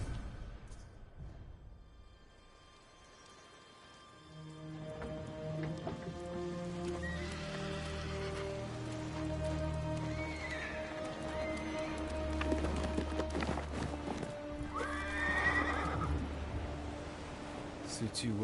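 A horse whinnies twice amid clopping hooves and a low ambient music bed, with a faint rain-like hiss throughout, in the video game Ghost of Tsushima.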